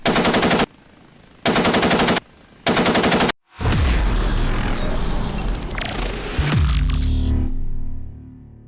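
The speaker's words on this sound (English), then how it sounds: "how to operate the 50 caliber machine gun in the OH-58 Delta Kiowa Warrior from Polychop" .50 caliber machine gun fired from an OH-58D Kiowa Warrior helicopter in the DCS flight simulator: three sharp, loud bursts of rapid fire, then a long sustained stretch of gunfire and rumble that fades out at the end.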